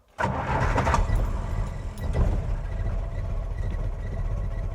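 A Warszawa 223 car engine cranks and catches, then settles into a steady, loud idle rumble close by.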